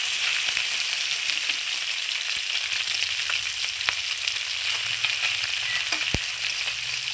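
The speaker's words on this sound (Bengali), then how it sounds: "আমি অল্প অল্প করে দিয়ে কড়াইয়ে মাছগুলো ভেজে নেব" River fish pieces frying in a wok, a loud, dense and steady oil sizzle close up, broken by occasional sharp pops and crackles, with no talking.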